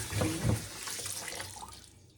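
Running tap water splashes over raw chicken in a sink, close and steady with a brief heavier splash at the start before easing off.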